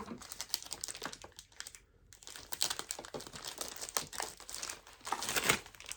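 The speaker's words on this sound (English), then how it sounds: "That's one piece of plastic off." Plastic wrapping taped around a creature's feet is peeled and pulled off, giving close, continuous crinkling and crackling with sharp tearing bursts and one brief pause.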